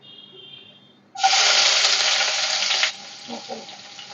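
Hot oil hits the pan as tempering (bagar) is added for home cooking, erupting into a loud, sustained sizzle and spatter for about two seconds before easing off into softer crackling and stirring clinks.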